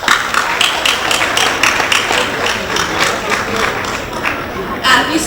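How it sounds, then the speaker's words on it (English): A school event audience gives a welcoming round of applause, a dense steady wash of many hands clapping with crowd noise throughout, fairly loud and close. "Let's welcome her with a huge round of applause."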